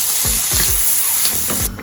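Vegetables for a vegan Philly cheesesteak sizzle loudly in a hot pan, a steady close hiss with a few rhythmic stirring scrapes before the sizzle drops off at the end.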